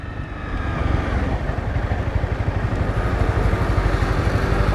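A Honda CBR 300 motorcycle engine drones while being ridden, a steady pulsing buzz that rises slightly in revs, close and loud with wind rush behind it.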